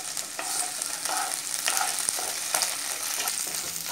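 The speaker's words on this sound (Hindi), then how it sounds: "अब हम इसमें डालेंगे अदरक और लहसुन की पेस्ट और इसको हमें चलाते हुए तब तक के फ्राई कर लेना है।" Ginger garlic paste fries in a pan and is stirred, giving a steady close sizzle with occasional scraping stir sounds and no voices.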